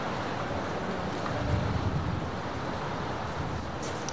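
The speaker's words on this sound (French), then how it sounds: "on dirait que le vent souffle comme s'il voulait faire partir le vaisseau de pierre" Wind blows steadily across the high terrace of a stone fort, a broad, constant rushing roar with no voices.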